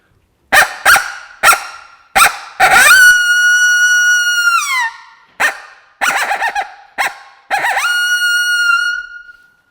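A Rocky Mountain Hunting Calls VETT-system hunting call is blown in short honking bursts, then longer notes that hold a clear, high tone before dropping off; loud and close.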